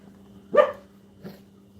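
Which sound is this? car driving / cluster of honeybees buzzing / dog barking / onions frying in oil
dog barking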